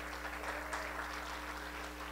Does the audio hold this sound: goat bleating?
no